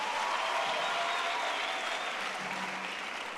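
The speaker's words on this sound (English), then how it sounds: "Give yourself a round of applause for being here." Crowd at a youth empowerment event's main stage in Orange Farm gives a steady round of applause, dense clapping holding at an even level and easing slightly toward the end.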